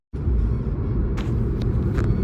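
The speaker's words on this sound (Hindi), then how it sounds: "उधर से भी गाड़ी आ रही है, इधर से भी जा रही है" Cars move both ways in a traffic jam at a temple exit in Delhi, a steady engine rumble with a few brief swells as vehicles pass close by.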